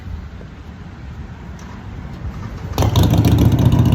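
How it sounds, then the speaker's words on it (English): A motorcycle passes by along a road, its engine note rising and growing louder toward the end as it draws near, with a steady background rumble and no speech. "Sorry about that motorcycle, guys."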